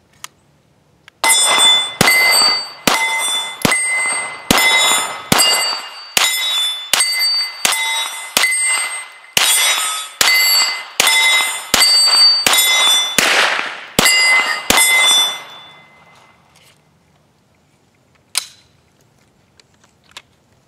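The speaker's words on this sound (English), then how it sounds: "I'm gonna just get some shooting done." A Glock pistol loaded with AngelFire ammunition fires a rapid string of about sixteen sharp, ringing shots outdoors in a steady rhythm, followed by a pause and one last isolated crack.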